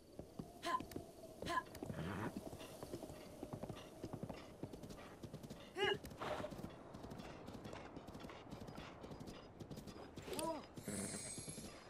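Horse hooves clip-clop steadily in Zelda: Breath of the Wild, a continuous rhythmic trot of game footsteps with occasional snorts, faint and alone without talk.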